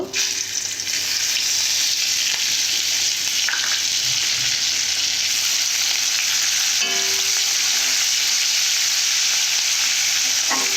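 Chopped onions dropped into hot oil in a pan, a loud, continuous close sizzle that holds steady throughout with a few faint stirring knocks.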